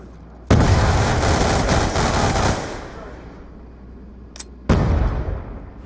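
Rapid automatic gunfire in Call of Duty Black Ops rips out in a sustained two-second burst, then a single sharp shot and a second burst after a pause, loud and close.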